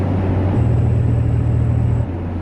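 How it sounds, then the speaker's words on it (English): The lane assist warning in a 2021 Mazda Miata Grand Touring gives a low, steady buzzing rumble of about a second and a half, laid over the car's constant road and cabin hum. "Now what you heard there is the lane assist warning."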